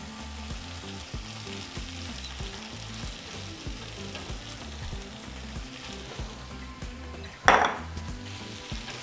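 Eight ounces of chorizo frying beside potatoes in a pan give a loud, continuous sizzle with rhythmic stirring scrapes, then a sharp clatter of a utensil against the pan near the end, with nobody talking.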